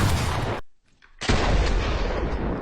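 Gunfire in Fortnite comes as loud, sharp blasts. A burst of shots is cut off by a brief near-silence, and then a second heavy volley continues to the end.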